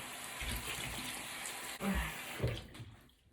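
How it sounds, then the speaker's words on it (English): Water splashes close up as skin care product is rinsed off a face at a sink, a dense steady wash of running and splashing water with brief breaks before it tapers off. "And now we're gonna like wash it off of our face."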